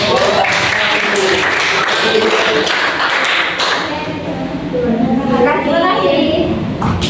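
Students in a classroom clap for a group presentation, with a few seconds of busy, scattered clapping that gives way to voices and classroom chatter.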